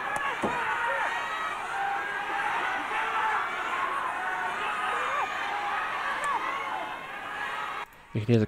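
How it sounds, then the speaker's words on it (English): A large crowd at a Japanese professional wrestling match keeps up a sustained, loud roar of cheering and chanting throughout, with the noise cutting off abruptly near the end. "You can hear the crowd not knowing really who to chant for both these men."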